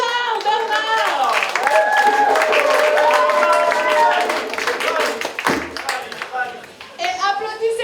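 Audience applause for a djembe player at a concert in Bouaye, France, in June. Clapping and cheering run steadily under a strong tonal layer of voices or music, then thin out toward the end.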